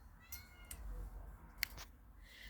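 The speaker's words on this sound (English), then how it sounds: "Sorry, y'all, that's my cat." A pet cat gives a couple of soft, short meows in a quiet indoor room, faint and close with no talking over them.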